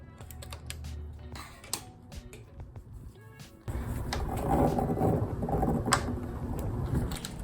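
A knitting machine is worked with a latch hook, giving close clicky mechanical ticks and ratcheting rattles, quieter and sparse at first, then busier and louder for the second half.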